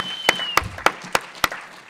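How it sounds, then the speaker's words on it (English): Audience applause at a talk, heard as five distinct, evenly spaced loud claps close by with a faint background and a thin steady tone running under them. "Round of applause for Doug."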